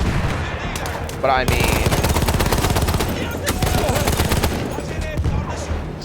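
An MG 08/15 machine gun fires in Battlefield 1 with loud, rapid, sustained bursts of gunfire that run nearly the whole time while someone talks over the shooting.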